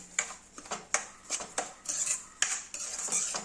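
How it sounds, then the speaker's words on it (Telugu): Semolina (rava) is stirred and lightly roasted in a pan, a metal spoon clinking and scraping against the pan in irregular strokes, close and fairly quiet. "దాన్ని లైట్గా వేయించుకోవాలి ఇలా తిప్పుతూ ఉండాలి"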